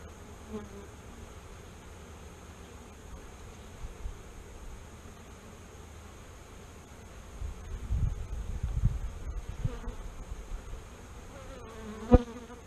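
Honeybees from a strong open hive humming steadily during a checkup, a faint continuous buzz with some rustling handling noise midway and a sharp knock near the end, no voices.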